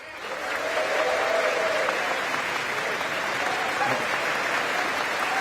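Sustained applause fills the US Congress chamber during Narendra Modi's address, a dense, steady roar of many hands clapping that swells in within the first half second and holds evenly throughout, with faint voices beneath.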